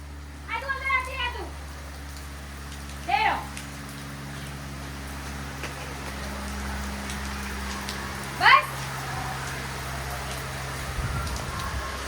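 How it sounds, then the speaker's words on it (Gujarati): Steady rain falls outdoors, a constant soft hiss throughout, with a few short bursts of voices talking over it. "વરસાદ બંધ થયા ભેગો છે જલ્દી જે પલળવું હોય પલળી લો ભાઈ"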